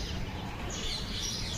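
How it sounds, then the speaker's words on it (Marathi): Sparrows chirp faintly in an evening outdoor setting, small scattered tweets over a steady low background hum, with no one speaking. "आणि त्याचबरोबर चिमण्यांची पण चिवचिव ऐकू शकता तुम्ही."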